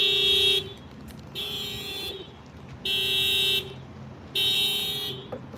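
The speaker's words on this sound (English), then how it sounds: "He just sitting in the car and it's just beeping, man." A parked car's horn or alarm sounding outside, four sustained loud beeps each lasting under a second, evenly spaced with quieter gaps of background noise between them.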